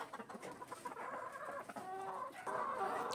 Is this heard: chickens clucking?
yes